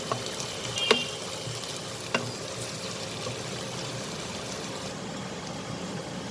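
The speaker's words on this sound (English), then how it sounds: "fry them completely, just till they become little pinkish in color, little translucent." Onions fry gently in a pan for an aloo samosa filling, producing a soft, steady sizzle with a couple of brief clinks from stirring, close but fairly quiet.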